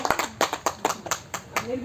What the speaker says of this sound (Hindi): एक बार जोर से पहले ताली बजाइए